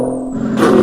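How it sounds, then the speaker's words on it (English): A Kenworth K100 truck engine in a video game, American Truck Simulator, drones steadily, then rises briefly as it revs, loud and close, with no voices. "Listen to the engine right here."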